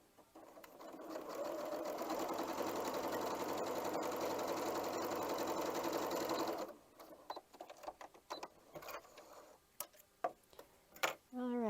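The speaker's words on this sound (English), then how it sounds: "Bring it over here and sew 1/4 of an inch." A sewing machine runs steadily for several seconds, stitching a quarter-inch seam on a scrappy Irish Chain quilt block, with a fast even mechanical chatter, then stops and is followed by scattered handling clicks and fabric rustles.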